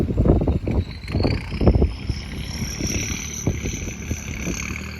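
A Kubota L40 tractor with a 48 horsepower engine pushes up a hard paddy field bund, its engine chugging in uneven bursts and strained thumps over steady wind noise outdoors.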